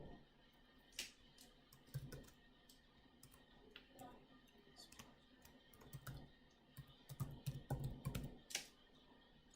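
Username typed on a computer keyboard to log in, quiet irregular key clicks in short runs, close but faint, ending in a denser flurry of taps.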